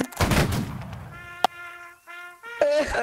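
One loud, rough burst of simultaneous rifle fire from a video game firing squad opens the moment, followed by a sharp single crack and thin electronic tones in fairly quiet surroundings.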